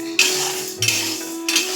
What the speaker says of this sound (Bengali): ডালটা আমি এখন ভাজছি।